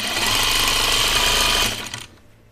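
A sewing machine runs a fast, steady, loud whirring stitch through thick quilting cotton while sewing rows, then stops abruptly and leaves a quieter tail.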